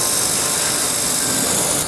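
Inside a fire-rated window factory, a laser welder runs along a window frame, giving off a loud, continuous broadband machine hiss and hum with no pauses and no voices.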